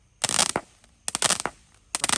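A Roman candle fires at night during Ramadan, throwing out rapid bursts of sharp cracking pops in three clustered volleys a second apart. The shots are loud and fairly close.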